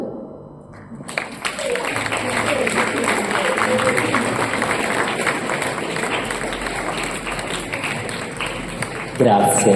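A live audience applauds after a true story from Sardinia is read aloud, with dense, steady clapping that fills the room for several seconds and then rises briefly near the end.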